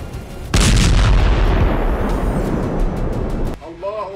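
A heavy explosion from an Israeli army bombardment in Gaza bursts out loud and close, then rolls into a long rumbling roar that fades before a news voice begins speaking.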